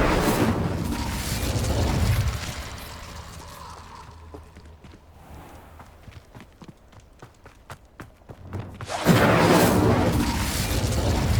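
In the Hogwarts Legacy video game, the Incendio fire spell sounds as a loud roaring burst of flame at the start, fading into quieter footsteps and rustles before a second fiery roar surges in near the end.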